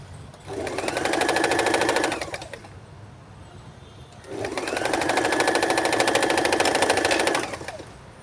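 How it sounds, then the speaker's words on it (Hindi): A sewing machine stitches a newborn baby cap in two separate runs of about two and three seconds, each a close, rapid mechanical whirring with a short quiet pause between them, and no talking. "1/4 इंच लेकर हम इस तरह से इसकी स्टिचिंग करेंगे।"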